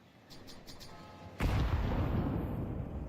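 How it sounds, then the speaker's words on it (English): In the shooter game Nova, a grenade goes off nearby with a sudden heavy boom that rolls into a long rumbling decay, preceded by a few faint ticking clicks. "That nade was close."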